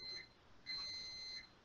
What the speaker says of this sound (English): Someone's alarm is beeping.